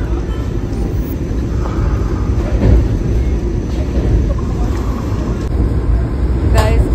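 A Vande Bharat train pulling into New Delhi station makes a steady, loud rumble and rolling hum, heard from on board with a voice talking over it.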